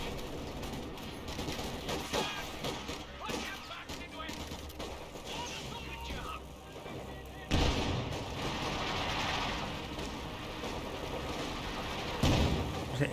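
Pack howitzer artillery barrage in a Company of Heroes 2 battle: a busy stretch of distant booms and gunfire, with heavier thumping impacts around the middle and near the end, while a voice talks intermittently over it.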